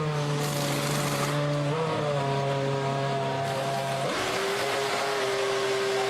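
A BMW-powered Formula 1 car at the 2006 Australian Grand Prix gives a loud, steady high-pitched engine whine with a few sharp shifts in pitch, alone without voices.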